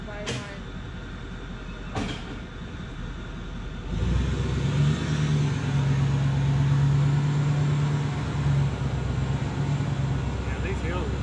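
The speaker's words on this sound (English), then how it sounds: "This truck sounds like mine trying to sit there and pull." A heavy truck engine drones and labors under load climbing a steep hill near Gatlinburg, its low steady hum rising and holding after a few seconds, with faint voices early on.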